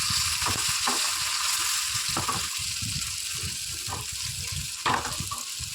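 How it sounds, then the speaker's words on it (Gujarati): Gunda fruit frying in hot oil with mustard seeds, cumin, asafoetida and turmeric, giving a steady close sizzle throughout with occasional stirring clinks and splashes; no talking. "તેલ આવી જાય પછી રાઈ, જીરું, હિંગ, હળદર, પછી ગુંદા નાખી દીધા."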